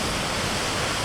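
A waterfall in the Uinta Mountains roars as a steady, dense rush of falling water that fills the whole moment, close and loud.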